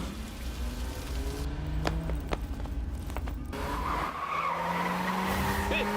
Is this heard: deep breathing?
no